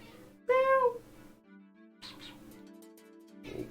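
A cat named Whiskers gives one clear, close, rising-falling meow, then softer sounds follow in a quiet room.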